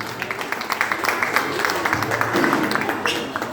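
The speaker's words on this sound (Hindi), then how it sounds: "आप सबके लिए जोरदार ताली होनी चाहिए।" Audience applause at a speech: steady, dense clapping from a crowd of listeners, sustained at moderate loudness for several seconds with a faint voice beneath.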